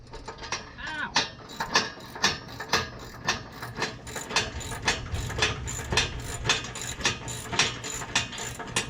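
Ratchet wrench working a very long bolt during a car muffler delete, a loud close run of evenly spaced clicking pulls that repeat steadily with a brief rougher patch midway, with no talking.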